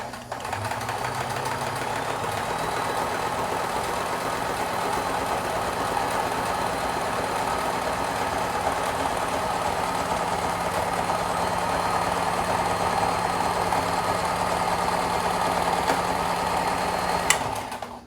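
A vintage Kenmore 158.12310 sewing machine with a broken plate running steadily after oiling, giving a continuous mechanical whir and hum that is close and unbroken for the whole stretch.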